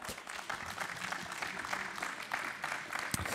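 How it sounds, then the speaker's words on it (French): Audience applauding at an innovation trophy awards ceremony, a steady dense wash of clapping from a sizable crowd at moderate level with no voices over it. "Je vous demande d'applaudir également Sedapta."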